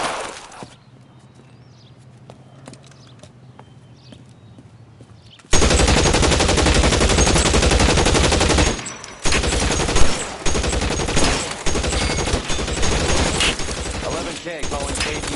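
Gunfire in the video game L.A. Noire erupts loudly and abruptly after a quiet stretch, a sustained rattling burst of rapid shots with brief pauses, continuing to the end.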